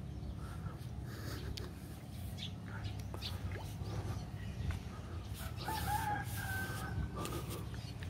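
Chickens, a mother hen with two little chicks near a duck in Jimalalud, Negros Oriental, Philippines, give soft clucks and peeps over a low outdoor background, with a rooster-like call toward the end and faint murmuring voices.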